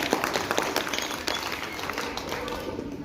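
An audience at a Brahma Kumaris program in Narela claps steadily throughout, a dense mass of applause with voices mixed in.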